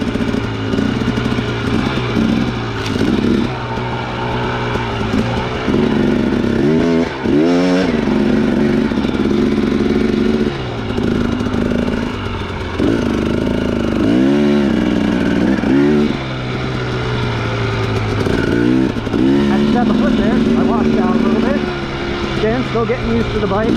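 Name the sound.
2017 Husqvarna TX300 dirt bike riding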